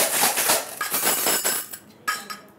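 Small glass bottles filled with shells being shaken in a classroom activity, a dense, continuous clinking and rattling close by, ending in a few sparser clicks.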